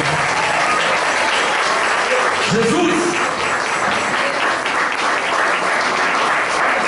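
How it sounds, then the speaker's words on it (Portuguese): A church congregation applauds during a worship service, steady full-room clapping throughout with a brief shouted voice partway through. "sua melhor salva de palmas àquele que é o Senhor"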